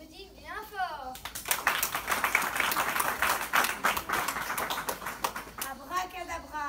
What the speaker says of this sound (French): Le roi de la magie qu'on applaudit bien fort.